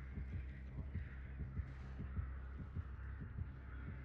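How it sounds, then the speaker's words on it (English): Dead by Daylight killer's heartbeat warning, a low steady double thump repeating at an even pace over a constant droning hum, faint and continuous with no talk. "I hear the heartbeat, and I don't know where it is."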